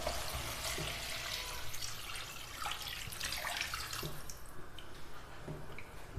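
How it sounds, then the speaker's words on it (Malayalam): Half a cup of water poured into an okra curry in a pan, a soft continuous splashing and trickling pour that stays faint and steady throughout, with no talking. "ഇനി ഗ്രേവിക്ക് ആവശ്യമായ 1/2 കപ്പ് വെള്ളം ഇതിലേക്ക് ചേർത്ത് കൊടുക്കാം."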